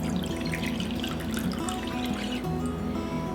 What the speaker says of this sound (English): So I'm just gonna pour my water into my bowl.